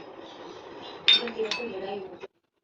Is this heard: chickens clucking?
no